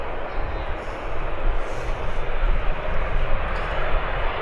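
A Learjet taxis onto the runway at Birmingham Airport, its jet engines giving a steady, broad roar that holds at a constant, fairly loud level throughout.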